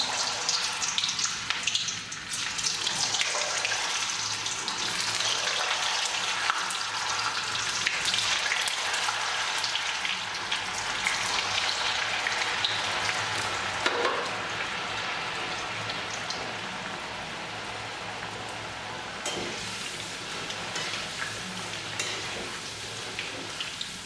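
Potato sticks for French fries bubble and crackle in hot oil, a dense, even hiss that holds close and loud throughout, easing slightly toward the end.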